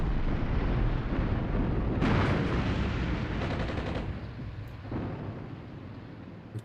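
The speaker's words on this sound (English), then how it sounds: "Artillery did a bit of damage here." Artillery fire and explosions rumble through a Cold War Finland battle in Armored Brigade 2, with Soviet armor pushing in. The low booming is dense and continuous, with a burst of louder blasts partway through before it fades slightly.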